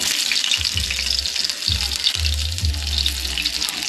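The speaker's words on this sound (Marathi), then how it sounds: "आणि आता आपण लसूण सोडूया थोडेसे." Garlic sizzles in hot oil on a hot tava, a steady close frying hiss with low rumbling bursts underneath and no voices.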